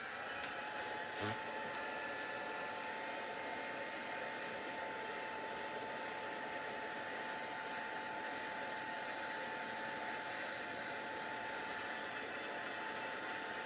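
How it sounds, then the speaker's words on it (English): A steady, loud whooshing roar of a card-making heat tool blowing hot air, continuous throughout with a constant hum and no speech. "I've got my heat tool here"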